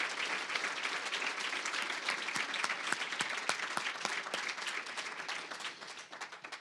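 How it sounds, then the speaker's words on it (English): Steady applause for college trustees at an honors banquet, dense and even clapping from a crowd that carries through the whole stretch and thins slightly at the end. "Big round of applause for our trustees."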